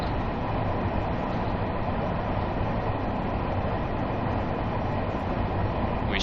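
A simulated commuter train on the Harlem Line in Train Sim World 3 rumbles steadily along the rails, a continuous loud rolling drone with wheel and motor noise throughout.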